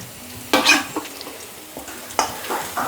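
Plantain slices roasting in a thin layer of oil in a pan, giving soft sizzling with a few sharp stirring scrapes and clatters of a utensil against the pan, close by and with no talking.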